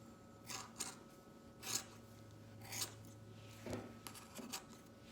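Scissors snip through yarn in a handful of soft, close cuts spaced about a second apart, each a brief rasping crunch over quiet room tone.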